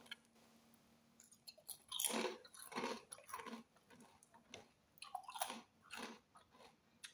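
Someone eats barbecue-flavoured street food potato chips up close, with bursts of crisp crunching and chewing, quiet pauses between bites, and no speech.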